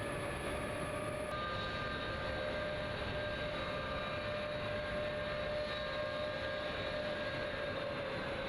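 A C-17 military transport aircraft's engines drone steadily on the runway, a loud, unbroken roar with a constant high whine running throughout, no voices present.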